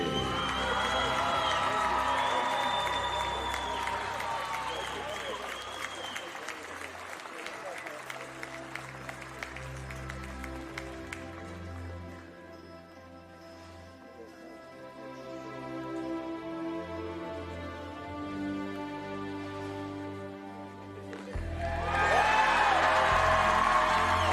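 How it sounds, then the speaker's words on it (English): An ice-arena crowd applauds and cheers both teams at a 2024 WIAA Division 2 boys state hockey championship trophy presentation. The noise is loud at first, eases to a softer murmur, then surges again, with an announcer's amplified voice over it. "a nice round of applause for both teams"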